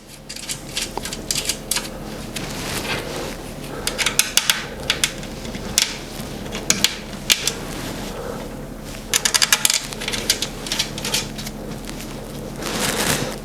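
Bolts are fastened by hand during assembly of a Minimax MX9 wood stove, with repeated sharp metallic clicks, taps and clinks in bursts over a soft background.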